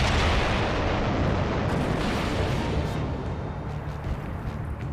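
An explosive charge detonates on a turret of Belgium's Fort Eben-Emael in WWII footage, a loud, sustained roaring rumble of blast and debris that fills the whole stretch and eases slightly toward the end.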